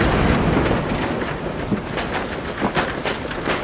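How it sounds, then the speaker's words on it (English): Heavy rain pours during a storm, a dense, loud, steady hiss with scattered heavier bursts and rumble throughout, no voices present. "Oh no, it's raining!"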